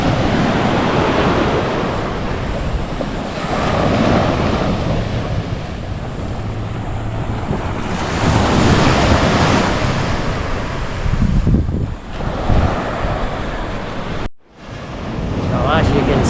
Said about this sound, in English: really fine, beautiful beach, beautiful ocean, beautiful white sand